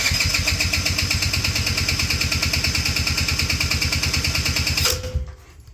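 A quad ATV's starter cranks the engine in a long, loud, steady rhythmic churn at full throttle with the choke off, never catching, then cuts out abruptly near the end and leaves a faint hum.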